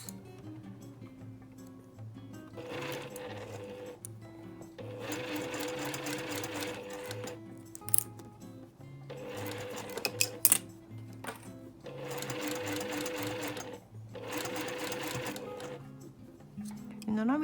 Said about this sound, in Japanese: こちらを合わせて縫います